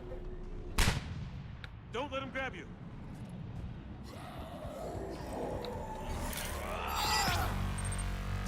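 Gunfire in a Mass Effect 3 combat sequence: a sharp loud shot near the start, then scattered fainter shots and sci-fi weapon whines amid ambient battle noise, with someone talking over it.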